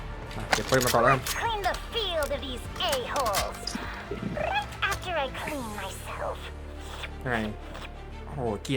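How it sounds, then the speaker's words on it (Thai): A cat meows repeatedly in drawn-out, wailing calls, mixed in with people talking nearby. "เสียงแมวอ่ะ"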